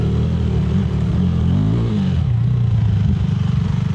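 A motorcycle engine runs loud and close, rumbling steadily with a brief rise in pitch as it revs, then settling into a throbbing idle.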